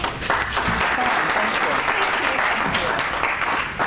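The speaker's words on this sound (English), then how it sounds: "We can give them a round of applause." A panel-event audience gives a round of applause, dense continuous clapping filling the room from start to finish, with some voices mixed in.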